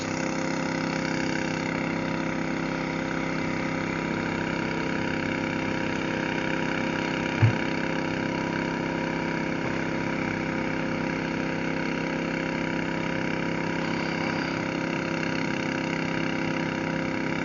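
A Kobelco long-boom excavator digging a pond runs with a steady mid-pitched diesel drone, constant and unchanging, with a single faint knock partway through.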